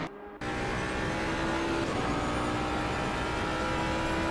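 A Jaguar race car engine at Monza in a racing video game drones with a steady high, sustained note after a brief quieter start, continuous and fairly close.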